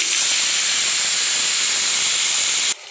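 Eggplant pieces frying in hot oil, a loud, steady close hiss of sizzling that holds evenly before cutting off abruptly near the end.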